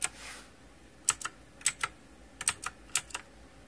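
Clicky keystrokes from an EagleTec mechanical keyboard come in quick irregular bursts, several crisp snaps in a row, close and distinct against a quiet background.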